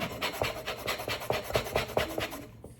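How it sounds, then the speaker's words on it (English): Orange rind scraped with a hand zester, a quick series of about eight short rasping strokes in an even rhythm, close up and alone before tapering off. "So we're gonna do about a half of orange zest."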